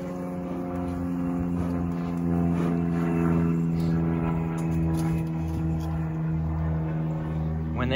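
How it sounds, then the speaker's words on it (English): Airplane passing overhead outdoors near beehives during swarm season, a steady loud droning engine rumble that swells slightly midway and lasts throughout, with a person talking over it. "sorry about the plane overhead"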